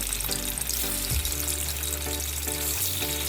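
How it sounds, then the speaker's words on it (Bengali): Chicken pieces frying in plenty of hot oil in a karahi, a continuous bright sizzle with a low steady hum underneath, close and fairly loud. "তেল গরম হয়ে আসলে মাংসগুলো দিয়ে দিব"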